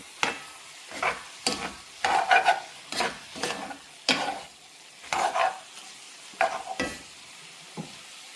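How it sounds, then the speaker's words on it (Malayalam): Repeated scraping strokes of a spoon through beef curry with roasted ground spice paste sizzling in a pot, steady rhythmic stirring up close with no talking. "ഇതിലേക്ക് നമ്മൾ വറുത്ത് അരച്ച ആ കൂട്ട് ചേർത്ത് നന്നായിട്ട് ഇളക്കണം"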